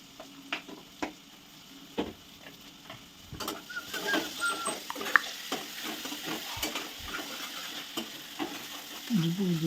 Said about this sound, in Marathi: अशा तऱ्हेने फ्रायचं नियोजन चाललेलं आहे